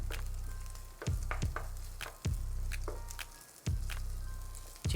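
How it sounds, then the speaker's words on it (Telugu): Onions and ginger-garlic paste frying in a pan, a steady close sizzle broken every second or so by stirring scrapes that briefly cut and swell the hiss, with no voices. "ఆనియన్స్, అల్లం వెల్లుల్లి పేస్ట్ మంచిగా ఫ్రై అయిపోయినాయి"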